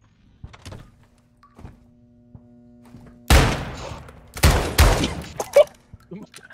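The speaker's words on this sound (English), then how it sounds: "Do you hear bullet sounds coming from his chest?" Bursts of video game gunfire break out after a stretch of near silence: a sharp volley, then several more loud cracks and clustered shots in quick succession, with faint knocks and thuds earlier.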